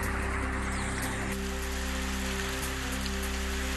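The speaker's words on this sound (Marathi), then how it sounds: "जालन्यातील अंबड शहरासह तालुक्यामध्ये सर्वदूर पावसाच्या सरी बरसल्या." Rain showers fall over Ambad town and taluka in Jalna, a steady, dense hiss of drops on surfaces that runs unbroken, with a faint low hum beneath.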